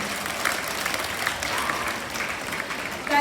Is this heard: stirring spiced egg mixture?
no